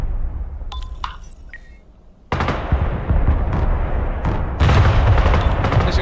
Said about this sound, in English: He's got artillery on the back right somewhere.